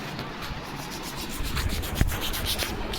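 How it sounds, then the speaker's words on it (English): Sandpaper rubs back and forth over balsa wood in quick, rhythmic scratchy strokes, close and steady, with no talking. "Now let us start sanding the fuselage extensions."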